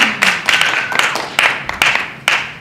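A few people at a city council meeting clap in scattered, uneven bursts, each cluster of claps loud and close, with gaps between them.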